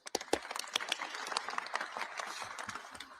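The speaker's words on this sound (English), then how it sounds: "Would you please give him a warm round of applause?" Scattered, moderately faint applause from an audience greeting a Minneapolis city council member, uneven individual claps thinning slightly toward the end.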